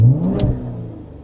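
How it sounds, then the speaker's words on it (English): Ford Explorer ST engine with an aftermarket cat-back exhaust revs once inside the cabin, a loud low rumble that swells briefly and then settles into a steady droning idle. "Doing some revs in cabin"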